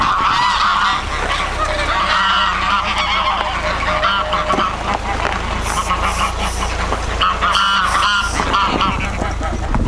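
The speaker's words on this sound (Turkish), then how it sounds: "Kazlar!" Geese honk repeatedly in a dense, loud flock at a village farmyard near Ishak Pasha Palace, their calls nearly continuous with voices mixed in.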